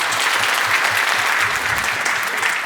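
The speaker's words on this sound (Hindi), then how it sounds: "तो इस पर तालियां बजा दीजिए आप।" Steady applause from an audience, dense clapping that holds evenly throughout with no talking.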